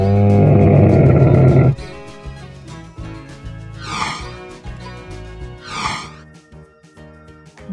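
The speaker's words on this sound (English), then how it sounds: "camel," A camel lets out a loud, deep, rasping groan for nearly two seconds, then quieter background music with two swooshing effects follows.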